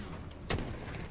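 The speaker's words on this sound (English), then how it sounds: "we got gunshots" A single sharp gunshot-like bang in a multiplayer online game, a short loud burst standing out from a steady background hiss, with no talk over it.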